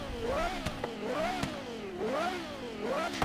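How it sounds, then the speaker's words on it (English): Porsche Carrera GT's flat-plane-crank V10 revving hard, its shrill rising and falling pitch sweeping up and down several times with sharp shift-like breaks, loud and close with no talk. "that is the flat plane crank V10 of the Porsche Carrera GT"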